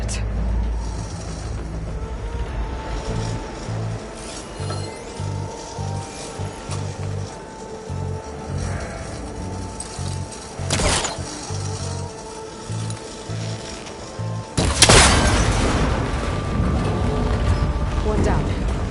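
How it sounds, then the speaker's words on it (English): A cable connector on an ancient, rickety tower is shot and breaks in Horizon Forbidden West. A rhythmic mechanical clanking under ambient noise gives way to a sharp impact, and then a louder burst of breaking and rattling debris. "It should break if I shoot it."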